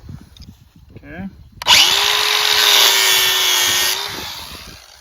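A battery-powered DeWalt hand grinder spins up abruptly and whines steadily while cutting a notch for a sheep fence, loud and close for a few seconds before winding down; someone talks briefly just before it starts.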